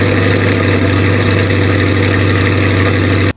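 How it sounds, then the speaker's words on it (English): A C8 Corvette 70th Anniversary Edition V8 roars through a cold start, a loud, dense, sustained engine rumble from the exhaust that holds steady close by before cutting off abruptly. "I'll let you hear a cold start right now."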